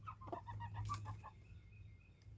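A chicken clucks a few soft, faint times outdoors over a steady low hum.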